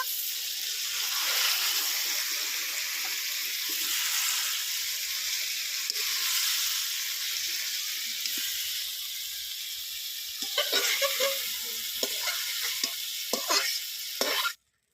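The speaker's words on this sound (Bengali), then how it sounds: "ঝিঙেগুলো দু মিনিট ধরে ভেজে নিয়েছি" Ridge gourd pieces frying in a pan give a steady, loud sizzle and hiss throughout, with stirring scrapes and bubbling crackles growing busier near the end before cutting off abruptly.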